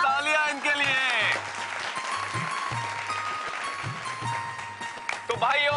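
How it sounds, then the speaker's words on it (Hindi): A short burst of clapping and applause from a group, with people talking and music tones over it. "तालियां इनके लिए।"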